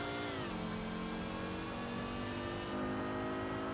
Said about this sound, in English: Oh, that exhaust sounds.